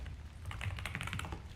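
Rapid typing on a computer keyboard, a steady run of light clicks and taps close by with no talk, while coding a web app.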